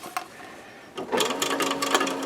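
A sewing machine threaded with regular thread stitches a cloth mask: after a faint click, a close, steady whirring rattle of rapid needle strokes starts about a second in and keeps running.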